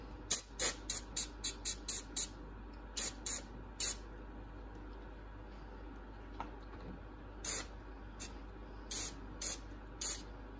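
Engine degreaser sprayed from an aerosol can into a tub while cleaning a Snap-on FV71 air tool: a string of short, sharp hissing bursts, several quick ones in a row, then scattered single blasts over a low steady background hum.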